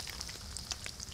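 Food sizzles over a campfire in the survival game DayZ, a soft, brief crackle with scattered pops over a low, steady hiss, heard alone without voices.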